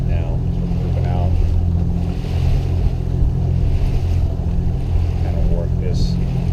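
A motorboat moves out into deeper water on Quail Creek reservoir in Utah while fishing for bass, its steady engine drone continuous and close throughout, with water noise alongside.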